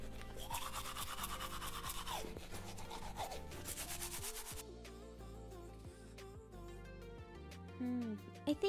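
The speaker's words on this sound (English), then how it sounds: "I'm gonna start off by finally brushing my teeth." Toothbrush scrubbing teeth in the Roblox Bloxburg video game, a steady brisk rubbing that runs for several seconds over game music and then fades into quieter background tones.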